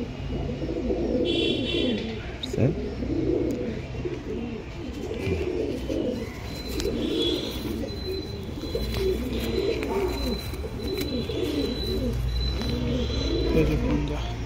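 Pakistani pigeons held in cages at a loft coo in soft, repeated low rolls over a steady bed of ambient noise, with occasional brief flutters, and someone talks intermittently nearby.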